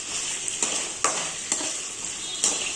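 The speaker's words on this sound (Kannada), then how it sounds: "ಅದನ್ನು ಸಣ್ಣ ಕಟ್ ಮಾಡಿ ಎಣ್ಣೆಗೆ ಹಾಕಿ ಫ್ರೈ ಮಾಡ್ಕೊತಾ ಇದ್ದೀನಿ" Chopped potatoes frying in hot oil for an aloo rice bath, a steady close sizzle with a few sharp stirring clinks against the pan, no talk.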